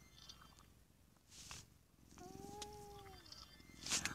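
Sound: cat purring loudly while being petted

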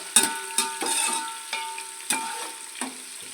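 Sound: onions frying and being stirred until golden for mutton pulao

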